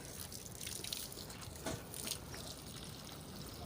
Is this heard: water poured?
yes